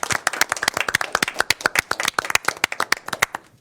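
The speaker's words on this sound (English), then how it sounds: "I just want to give you one more round of applause for all your work" A small group at a transit board meeting claps, the sharp individual claps close and distinct, keeping an uneven rhythm before tapering off.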